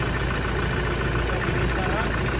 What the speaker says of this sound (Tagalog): Kita natin na matuli na yung andar ng engine